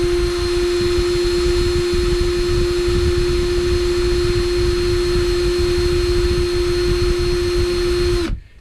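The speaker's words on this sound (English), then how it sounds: "just use the sandpaper to sand it" A motor spins a part for a homemade Turner motor bushing while sandpaper sands it, making a loud steady whirring hum with a constant pitch that cuts off abruptly at the end.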